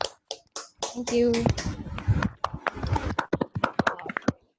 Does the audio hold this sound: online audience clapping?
yes